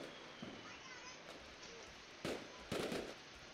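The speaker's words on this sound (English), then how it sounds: "Fireworks." Fireworks going off near a trailer park, a few sharp cracking pops in quick succession over a faint steady hiss, distant and quiet.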